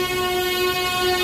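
An express train from Dhone Junction to Guntur stands at Nandyal junction station, its horn sounding a sustained, loud, steady tone over rumbling rail noise.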